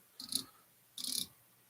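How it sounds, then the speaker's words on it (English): Two short bursts of rapid, fine clicking from a rebuilt Craftsman 36-tooth ratchet spinning briefly, quiet and close with a pause between them. "You can hear that beautiful 36 tooth ratchet just purring"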